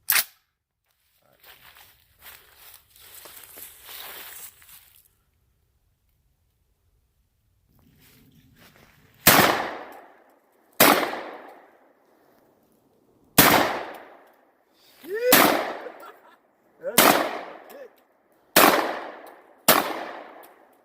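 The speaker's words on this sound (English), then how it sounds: "And that is a shotgun." A UTAS XTR 12 semi-automatic shotgun booms outdoors in seven loud, sharp blasts spaced a second or two apart, each with a short decaying echo, after a few quieter rustles and clicks.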